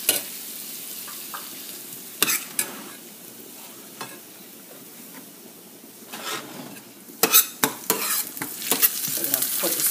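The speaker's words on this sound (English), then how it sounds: "We're going to just let that saute a little bit." Haitian seasoning sautés in a pot for bouillon, giving a low, steady sizzle broken by sharp scraping and clacking stirs, several in quick succession near the end.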